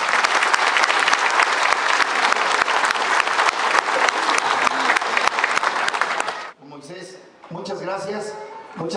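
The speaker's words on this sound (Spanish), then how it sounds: "Y pues yo les pido que le den ese fuerte aplauso a nuestras autoridades." Dense, loud audience applause at a school classroom building event in San Bartolo, sustained clapping for about six seconds before it stops and someone speaks over a microphone.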